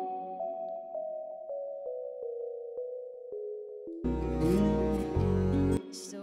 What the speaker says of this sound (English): I then added some sine bells